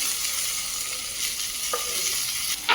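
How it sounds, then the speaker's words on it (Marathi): Chopped onion and tomato sauté in oil in a kadhai with a continuous close sizzle, a few stirring clicks and scrapes near the end. "कांदा गुलाबीसर रंगावरती थोडासा परतून घ्यायचा त्यानंतर बारीक चिरलेला टोमॅटो घालायचा"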